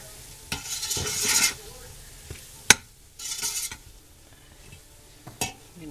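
Taco seasoning is stirred into ground meat frying in a pan, with scraping spoon strokes and clinks against the cookware over a faint sizzle, in separate irregular bursts.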